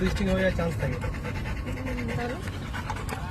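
A small dog pants close by in quick breathy bursts while a person talks over it.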